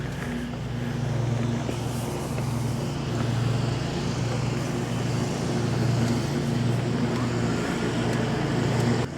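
A SpaceWalk M6 electric bike rides on pedal assist level 1, giving a steady low motor hum under constant wind rush and road noise with no talking.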